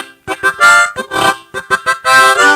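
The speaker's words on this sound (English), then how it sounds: "If you use your tongue, it sounds like this." Harmonica played with tongue technique, a run of short articulated blown and drawn notes in quick bursts, close and loud, with no talking.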